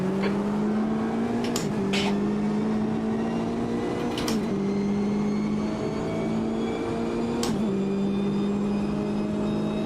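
A Corvette race car engine in the Automobilista 2 racing game holds a steady, droning tone. Its pitch dips briefly at a few gear changes, and there is no talking.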